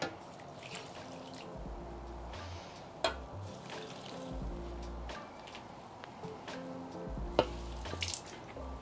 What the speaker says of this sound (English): I don't water snake plants very often over winter, but I'm gonna give these guys a good soak.